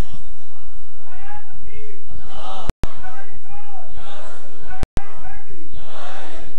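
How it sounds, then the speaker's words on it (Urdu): A man in the audience at a religious speech shouts slogans, loud chanted cries echoing through a crowd with answering voices, broken by two sharp loud cracks of distortion. "وہ وہاں بیٹھ کے نعرے لگاتا ہے جی"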